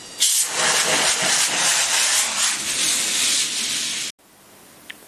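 Homemade steam rocket built from extruded aluminium tubing, releasing a loud, steady roaring hiss of steam for about four seconds before cutting off abruptly to quiet.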